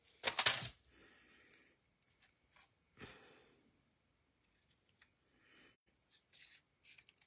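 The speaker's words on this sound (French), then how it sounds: "Allez, on se coupe le ruban." Scissors cut through natural ribbon in a few short, quiet snips and rustles, close by with gaps of near silence between them.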